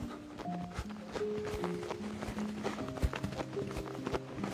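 Horse hooves clip-clopping at a steady trot in a riding session, a continuous run of close, rhythmic footfalls with faint tonal background sounds throughout.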